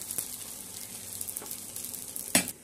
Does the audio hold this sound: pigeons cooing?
no